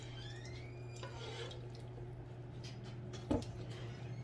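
A spoon stirs baked spaghetti in a pan, giving soft scattered scrapes and clicks with one sharper scrape near the end, all faint beneath a steady electrical hum.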